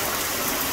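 Heavy rain pours steadily at night outside a house with landscape lighting, a dense, continuous broadband hiss with no breaks and no voices.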